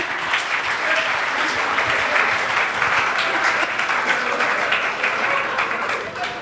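An audience applauds steadily and laughs, producing a dense, continuous wash of clapping that stays at an even level throughout, with no speech over it.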